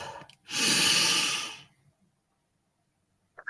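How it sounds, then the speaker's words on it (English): One long, deep inhale through the nose and mouth, close and loud, lasting about a second, then silence and a faint rustle. "Breathe in."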